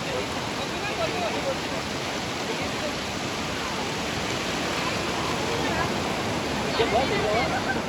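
Steady rushing flow of water from a waterfall on a nature trail at Tamhini Ghat, continuous and fairly even throughout with no clear speech.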